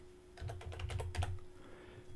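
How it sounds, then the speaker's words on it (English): Fast typing on a computer keyboard, a quick burst of soft key taps close by over a faint steady hum, no one speaking. "I'm just going to start typing email."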